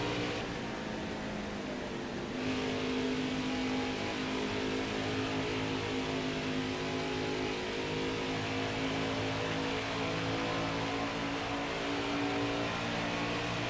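A race car engine in the NASCAR Heat 5 video game, at Pocono, drones steadily at high revs with a sustained, even tone throughout and no speech.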